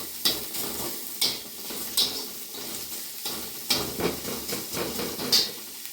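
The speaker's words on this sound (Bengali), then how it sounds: "পেঁয়াজটা হালকা সেঁতলে নিয়েছি।" Onion and a slit green chili sautéing in a pan for a Bengali ash gourd greens mash, with soft steady sizzling broken by repeated scraping stirs of a utensil against the pan, close and alone.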